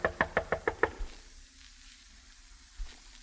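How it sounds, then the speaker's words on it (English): Five quick, evenly spaced knocks on a door in a radio drama, crisp and close, followed by a faint quiet room tone with a soft thump near the end. "I knocked hopefully on his door."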